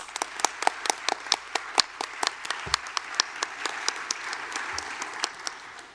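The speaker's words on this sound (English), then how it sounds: "Let's give them a round of applause." A round of applause for regional educator award honorees at an evening awards and scholarship ceremony: a modest audience claps steadily for several seconds, individual sharp claps standing out near and distinct.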